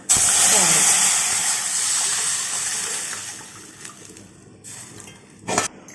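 Hot tempering hits a pot of Telugu rasam (charu) with a loud burst of hissing sizzle that gradually fades and steadies over a few seconds, with a brief flare near the end.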